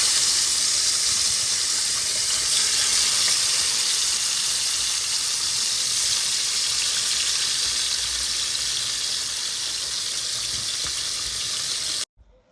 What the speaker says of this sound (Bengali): মাছটা এখন ভেজে তারপর হচ্ছে রান্না করে নিব